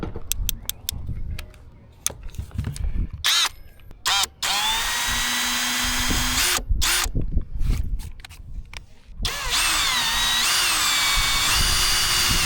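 A power drill backs screws out of deck boards, whining in repeated bursts that rise and fall with short pauses between, close and fairly loud.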